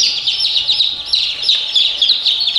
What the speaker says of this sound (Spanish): Andan 19 pollitos aquí.